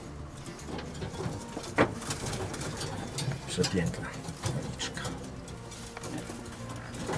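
Pigeons coo softly and intermittently in a breeding loft, under someone speaking close by, with faint fluttering and patter.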